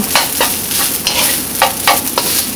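Garlic fried rice sizzles steadily in a hot pan while a utensil stirs and turns it, with several scraping strokes and soft clatters over the constant frying hiss.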